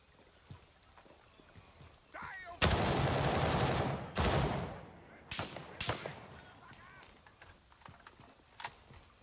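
Gunfire in the video game Gray Zone Warfare: two long loud bursts of automatic rifle fire, then several shorter bursts and single shots, close and sharp, with faint background between.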